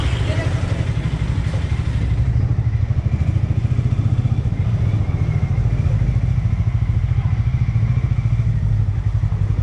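A motorcycle rides along inner roads on a trip from Kolkata toward Chilika Lake, its engine giving a steady loud low drone with wind rumble, and a person talks over it throughout.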